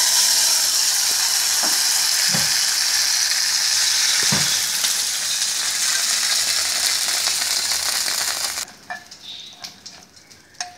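Loud, steady sizzling of spices tempering in hot oil for a methi leaves moong dal gravy, with a few clinks of a spoon, then the sizzle drops away abruptly near the end.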